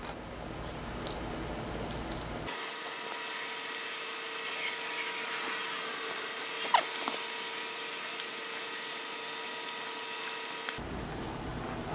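A tiny PS04 screw is driven into an Eaglemoss Eleanor model car, giving a steady mechanical whir that runs unbroken for about eight seconds with a few small ticks, close and with no talking.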